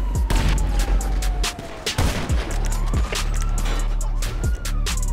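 Bombs explode in the video game GTA 5 Online, with deep booming blasts and sharp bursts of gunfire over a low rumble, a siren-like tone sweeping in the background, loud and close.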